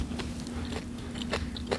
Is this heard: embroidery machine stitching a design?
no